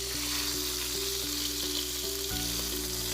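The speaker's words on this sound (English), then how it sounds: "As you can hear that sizzling" Chicken sizzles and crackles steadily in seasoned hot oil in a pan, a close, continuous frying hiss with a faint low hum underneath and no speech.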